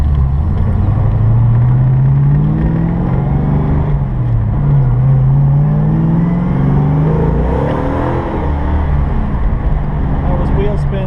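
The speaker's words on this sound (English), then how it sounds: "That was wheel spin there, second, just rolling into it." A 1985 Saleen accelerates hard on a road with wheel spin, its engine rising in pitch through the gears from inside the car, loud and continuous, with someone talking over it.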